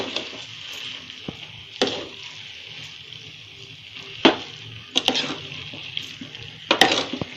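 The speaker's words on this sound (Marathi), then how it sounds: "6 ते 7 मिनिट असं हलवून घेते चमच्यानी आणि पुरण तयार करते" Spoon stirring puran, a chana dal filling, in a pan over medium heat: soft scraping and faint sizzle with a few sharp metallic clinks of spoon against pan, spaced irregularly, no voice.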